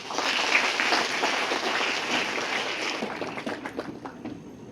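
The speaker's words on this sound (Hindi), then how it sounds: "हम हमारे तालियों की गड़गड़ाहट से हमारे स्पोर्ट्स आइकन्स का स्वागत करें" A crowd applauds to welcome sports icons at a Khelo India youth dialogue event, a thick, fairly loud round of clapping that thins out into scattered claps toward the end.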